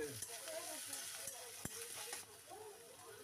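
Chopped onion, dried chilli and garlic fry in two spoons of mustard oil in a wok, giving a faint, soft sizzle with light stirring scrapes and one sharp tap.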